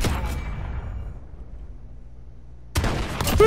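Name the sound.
gunshots from a video game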